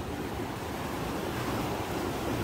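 Sea waves wash steadily against a harbor breakwater in a continuous, broad roar with some wind noise, with no voices.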